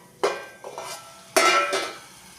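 A plate lid is lifted off a pot of masala gravy, two bright metallic clanks with a short scrape between them, close by and with no talk.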